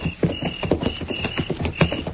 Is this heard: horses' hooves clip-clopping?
yes